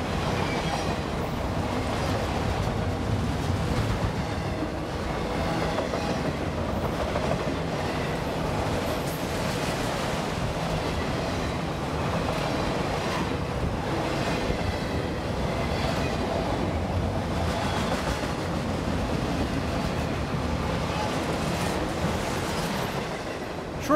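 Norfolk Southern freight train NS-112 rolls slowly through the town of Princeton, producing a continuous heavy rumble with rhythmic clickety-clack of wheels over rail joints, steady and fairly close for the whole stretch, no voices.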